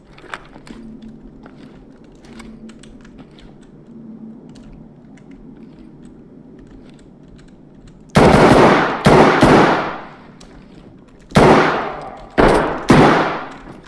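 Gunfire in the Ready or Not tactical shooter: a quiet stretch of faint game ambience, then several loud, sharp bursts of shots in two clusters near the end, with no talking.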